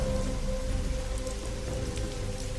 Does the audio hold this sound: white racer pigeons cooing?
no